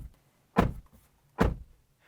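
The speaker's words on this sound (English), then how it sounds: "That's what the door sounds like." The door of a 2024 Toyota RAV4 hybrid SUV shuts twice, each a close, solid thunk with a brief rumbling tail, separated by a short pause in an otherwise quiet setting.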